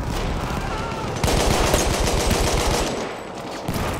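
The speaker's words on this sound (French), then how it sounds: "J'ai repéré une mitrailleuse" Rapid automatic machine gun fire in the World War I shooter Battlefield 1, a loud, dense burst of repeated shots starting after a second of background battle noise and continuing steadily nearly to the end.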